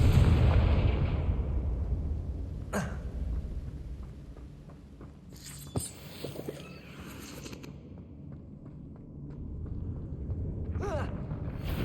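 A Confringo fire spell blasts in the Hogwarts Legacy video game inside a bat-filled cave. A loud, booming rumble with a sharp crack partway through fades into a lower roar, then swells again near the end, with no speech over it.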